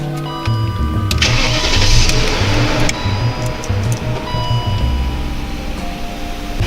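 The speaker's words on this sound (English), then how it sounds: "So we'll start the car, see if anything bad happens." A BMW E38 engine cranks and fires up just after a new MAF sensor is installed, with a whirring starter followed by a loud catch and a rough, steady idle close to the microphone.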